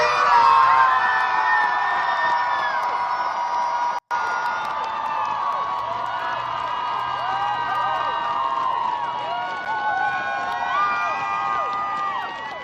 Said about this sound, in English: Denver Pride crowd reaction to Maylot Kuros could be heard from miles away.